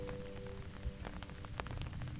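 Steady rain falls in the open, a continuous hiss with scattered drop impacts tapping on a nearby surface throughout, no voices.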